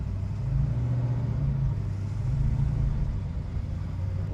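A 1970 Charger with a 426 Gen 3 HEMI rolls out in first gear, giving a low, steady engine rumble at close range with a slight rise and fall, alone without talk.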